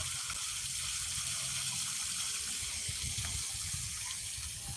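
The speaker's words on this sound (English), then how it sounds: "Nice man-made waterfall there." A man-made waterfall pours in a steady, broad rush of falling water, loud and close, with no break across the whole stretch.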